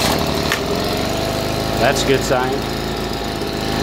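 Stihl leaf blower engine running after a carburetor repair, a steady close two-stroke drone throughout with a person speaking briefly over it.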